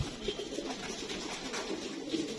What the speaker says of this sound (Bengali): এই যে আরো কবুতর উঠতেছে বাড়ির উপরে